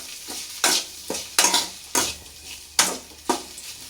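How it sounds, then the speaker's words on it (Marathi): Spatula scraping and clattering in a pan as okra is stirred with crushed peanuts, a series of about six sharp strokes at an uneven rhythm, close up, with no talking. "शेंगदाण्याचा कूट टाकल्याच्या नंतर परत थोडंसं मिक्स करून घ्यायचं"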